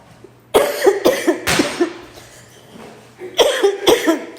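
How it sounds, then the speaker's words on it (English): A person coughs repeatedly indoors, a loud close burst of several harsh coughs, a pause, then another cluster of coughs. "I'm coughing, but I don't have corona because it's just a cough."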